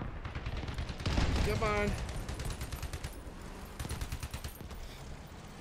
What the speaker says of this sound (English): I have a machine gun.